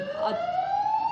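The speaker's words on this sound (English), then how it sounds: "sorry about the siren." Emergency vehicle siren wailing in a steady rising tone, loud and close, with no talk over it.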